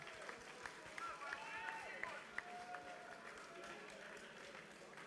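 Spectators at a SwissEurobot 2022 robotics competition qualification round clap and cheer faintly in the distance for two teams while an announcer talks over them.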